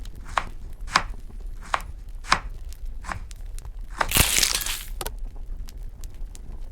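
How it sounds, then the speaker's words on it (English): A knife chops meat in a cooking video game, with about seven crisp, evenly spaced chopping hits followed by a brief louder crunchy burst, and no talking. "Cut the meat."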